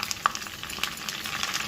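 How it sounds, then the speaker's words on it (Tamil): Curry leaves and a pinch of asafoetida fry in hot oil for a sambar rice tempering, a soft crackling sizzle with small pops and a brief stir, close by and fairly quiet with no talking. "கருவேப்பிலை போட்டு கொஞ்சம் பெருங்காயத்தை போட்டுருவோம்."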